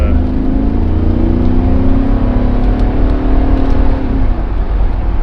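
Mercedes G63 AMG V8 SUV accelerating hard, a steady loud engine roar with a rising harmonic whine that climbs over about four seconds before easing, heard close and without talk.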